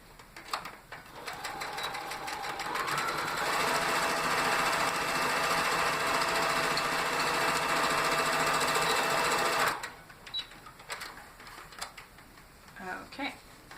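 A home sewing machine runs steadily for about nine seconds, stitching an X across a rag quilt, then stops abruptly; quieter handling noises and a little speech follow.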